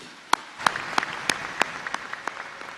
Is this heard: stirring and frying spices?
no